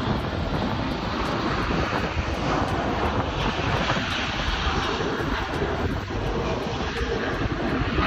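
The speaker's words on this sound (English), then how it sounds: "The final plane for the evening would be this gorgeous British Airways A380." British Airways Airbus A380 coming in to land, a steady broad jet roar heard at a distance and heavily mixed with wind buffeting the microphone outdoors in the evening.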